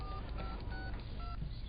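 Someone dials a mobile phone, tapping out a quick run of short, separate keypad tones over a low background hum, with no voices.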